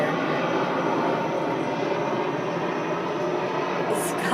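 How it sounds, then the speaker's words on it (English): A fixed-wing airplane passes overhead, its steady broadband engine roar sustained and fairly loud throughout, with no voices over it. "I guess there's planes around here."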